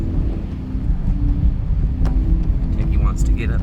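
A 2023 Acura Integra driving on snow tires in winter conditions, a steady close engine and road rumble with wind buffeting the microphone, while someone talks over it.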